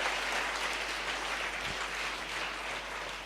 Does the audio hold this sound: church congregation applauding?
yes